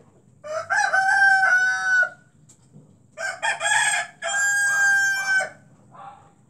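Loud, harsh repeated calls from a black-capped lory parrot kept as a pet, coming in two long bursts of strained, crowing-like squawks with a short quiet gap between them, close to the listener and with no talking.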